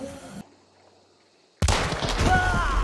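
A loud burst of gunfire from the video game Hunt: Showdown breaks in after a near-silent pause and is followed by a sustained, reverberant rumble.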